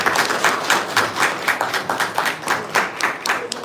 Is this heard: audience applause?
yes